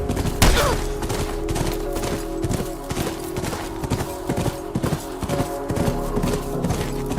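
In The Last of Us, a horse gallops with rapid, rhythmic hoofbeats while bursts of gunfire crack loudly around it, all continuous and up close.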